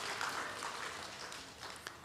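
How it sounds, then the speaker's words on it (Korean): Brief, fairly quiet applause from a church congregation at a Wednesday prayer meeting, a soft wash of clapping lasting about two seconds. "박수하겠습니다"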